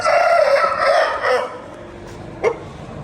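A strong, purebred Turkish rooster from Namangan crows once, loud and close, its call lasting about a second and a half, followed by a short sharp knock against a quiet background.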